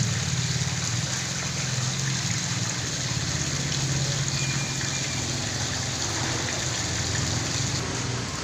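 Ice water sluiced over fresh fish at a traditional fish market, a steady, loud gushing pour that runs unbroken throughout with no voices over it.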